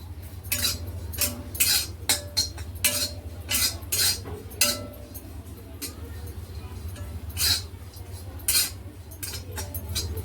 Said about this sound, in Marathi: हे सुकं खोबरं एकदम खरपूस असं भाजून घ्यायचं आहे आपल्याला